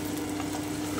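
Cauliflower and mixed winter vegetables frying in a pan, a steady close hiss of sizzling oil with a faint low hum beneath, brief and even in loudness.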